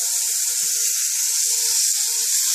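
Thin-cut pork chops sizzle steadily in a hot pan, a continuous bright hiss with small scattered pops, close and even throughout.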